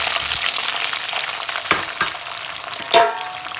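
Onion frying in hot oil over high heat, a steady crackling hiss with a few sharper pops and stirring clatters near the end.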